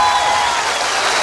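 An audience applauds at a 1988 televised tribute concert, dense, steady clapping from a large crowd throughout.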